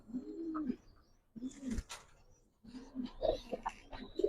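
Large pigeons kept for sale coo in low, rolling bursts, three separate close phrases with quiet gaps between, faint and without talk.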